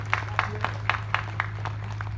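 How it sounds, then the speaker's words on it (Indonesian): An audience at an outdoor Kiaikanjeng sholawat gathering on a field in Srandakan claps in a steady, evenly spaced rhythm, about four claps a second, fairly faint over a low constant hum. "Saya minta tepuk tangannya buat semua yang hadir di sini"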